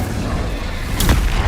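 Incendio fire spell cast in the Hogwarts Legacy video game, a sudden whooshing burst of flame that flares up about a second in and stays loud over a dense rumbling game backdrop.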